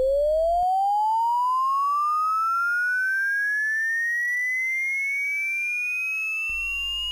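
A loud, pure electronic sine tone glides smoothly upward in pitch for about seven seconds with no other sound, part of a sweep running from tens of hertz to 22 kHz.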